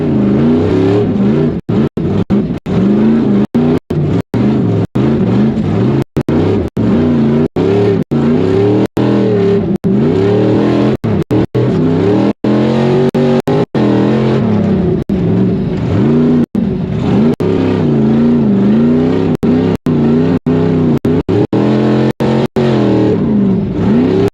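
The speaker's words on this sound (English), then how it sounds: "He's got a Mass Motors LSX 463 with 750 horsepower." A Mass Motors LSX 463 V8 of 750 horsepower in a rock racing vehicle at an extreme rock racing qualifier, revving hard and loud and close, rising and falling in pitch for a long stretch with sharp dropouts between bursts.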